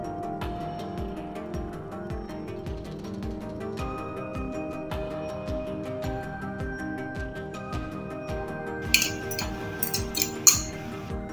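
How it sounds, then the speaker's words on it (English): A spoon working spices into mashed potato in a bowl for a potato snack, giving soft muffled mixing strokes with light clinks against the bowl that grow sharper and louder toward the end, no talking. "Gradually incorporate mixed spices into mashed potato."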